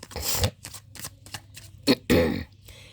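Tarot cards being shuffled by hand in several quick riffling bursts of varied length, close and crisp, with short gaps between them and no talking.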